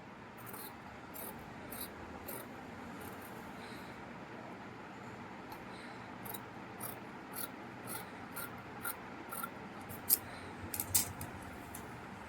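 Scissors cutting fabric and lining for a blouse neck design, a series of short, crisp snips that grow sharper and more frequent toward the end over a steady low background hiss.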